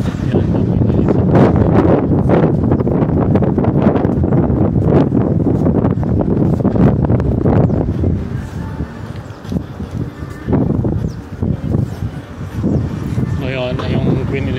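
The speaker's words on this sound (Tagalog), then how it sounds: "malakas kasi hangin" Strong wind at Quad Central in Birkirkara, Malta, buffets the microphone with loud, continuous roaring gusts that ease off later, while someone talks throughout.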